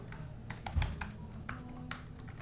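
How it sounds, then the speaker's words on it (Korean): Quick, uneven keystrokes on a USB wireless keyboard plugged into an iPad 2, crisp close clicks in short bursts with soft pauses in a quiet room. "이것은 저 USB 무선 키보드인데요."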